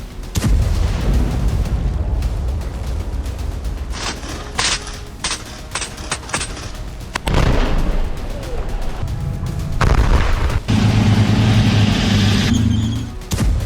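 Loud explosions and heavy blasts from an Israeli air strike in southern Lebanon, with rumbling booms and crackling bursts running through the whole stretch, a few sharp impacts in the middle.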